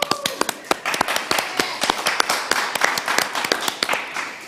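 A small audience claps at a virtual assistant awards event, sharp distinct hand claps at an uneven rhythm, close and fairly sparse rather than a full roaring crowd.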